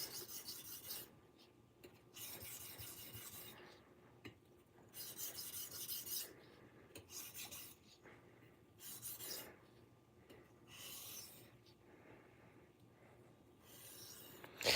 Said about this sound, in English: So I'm doing half strokes here, back and forth, starting at 8, counting my way down.